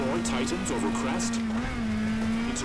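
A rally car engine in the WRC video game on a Rally Italia stage holds a steady, loud, buzzing drone at near-constant revs, with a voice talking over it throughout.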